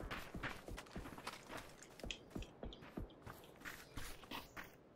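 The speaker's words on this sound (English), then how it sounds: "I hear footsteps." A run of soft, quick footstep thuds in an uneven rhythm in the video game PUBG, faint and fairly close, with a low background hiss and no speech.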